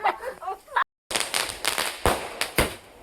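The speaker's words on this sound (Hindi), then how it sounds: "पटाखा तो मैंने फोड़ा" Firecrackers bursting during Diwali celebrations in the Uttarakhand hills, a string of sharp close bangs and crackles in quick irregular succession, with a brief silent gap, mixed with voices talking.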